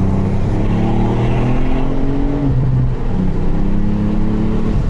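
A 2018 Ford Fiesta ST engine revs hard while driving, pitch climbing through gears in repeated sweeps, loud and close from inside the car with a short dip between pulls.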